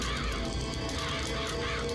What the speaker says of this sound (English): Why were those birds so aggressive?